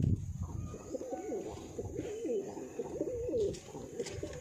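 Newly arrived pigeons coo repeatedly as they drink water after rain, a close, rolling, throaty cooing in steady overlapping phrases with no talking.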